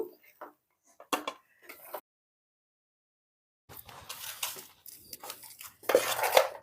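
Crab fry being scooped onto a plate, a few close clinks and scrapes of utensil on cookware, then a pause before a longer burst of clattering scraping and metallic taps.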